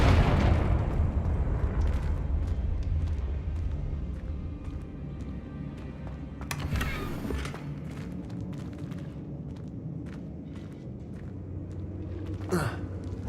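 Confringo blasting spell in Hogwarts Legacy, a loud booming burst at the start that rumbles and decays, followed by softer crackles, footsteps and a second sharp burst near the end.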